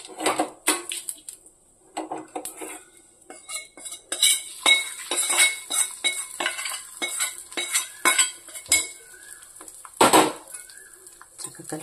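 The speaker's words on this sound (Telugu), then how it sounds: "చక్కగా కలుపుకోవాలండి ఇదంతా కూడా." A spoon scrapes and clinks against a bowl while hot tempering is stirred into a tomato, carrot and cucumber pickle, with irregular rhythmic knocks and a faint sizzle.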